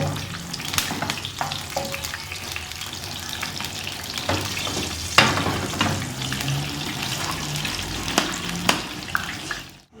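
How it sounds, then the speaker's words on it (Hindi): Asafoetida and chillies fry steadily in hot ghee, a dense crackling sizzle broken by spoon scrapes and clinks against the pan, close and continuous without talk. "इसको हम अच्छे से घी में ब्राउन करेंगे"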